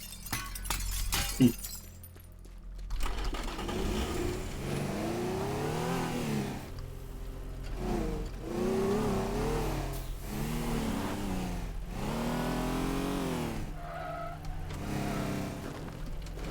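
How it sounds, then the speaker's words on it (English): Race car engine in Teardown revs up and down in repeated surging pulls, accompanied by a sharp crash and glass shattering near the start, loud and close throughout. "we'll just go ahead and jack a race car"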